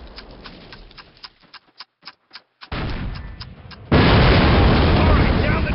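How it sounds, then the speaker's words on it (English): In Call of Duty, a series of sharp pops and crackles like distant gunfire gives way to a heavy, roaring cannon blast that swells into loud sustained rumbling, with a voice calling out over the battle. "This cannon's about to go boom!"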